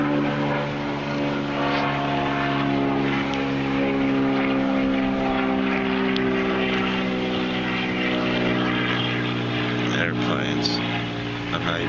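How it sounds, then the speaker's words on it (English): Propeller airplanes flying overhead give a loud, sustained droning hum with steady engine tones that fills the whole stretch continuously. "airplanes."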